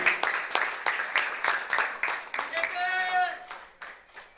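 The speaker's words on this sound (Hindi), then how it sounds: "एकदा जोरदार टाळ्यांचा गजर करा या खेळासाठी" Crowd at a local cricket match clapping in a fast, steady rhythm, the sharp claps close together and running throughout, with a voice calling out and a brief whistle-like tone partway through.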